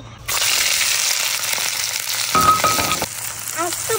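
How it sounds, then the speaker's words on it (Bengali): A loud burst of sizzling as chopped onion hits hot oil, a steady crackling hiss that continues throughout, with a brief metallic scrape partway through. "তেল গরম হয়ে গেছে, তো এবার আমি পেঁয়াজ কুচি দিয়ে দিচ্ছি।"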